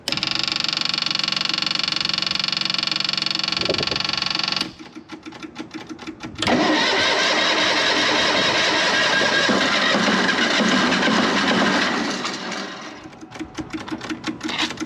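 A Ford F-100 pickup engine runs loud and close, a steady roar that drops back for a couple of seconds, then surges as the throttle opens and holds high before easing off near the end.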